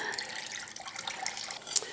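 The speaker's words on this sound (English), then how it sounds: "we're gonna do 1 cup of soy sauce" Soy sauce poured into a measuring cup while making chicken teriyaki, a steady liquid trickle and splash lasting a couple of seconds with a brief brighter spatter near the end, close and fairly quiet.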